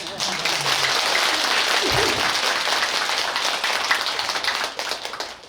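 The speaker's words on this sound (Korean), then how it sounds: "박수 한번 더" Applause from the congregation at a Buddhist eye-opening consecration ceremony for statues at a temple, loud, sustained clapping with a brief low voice murmuring under it before fading at the end.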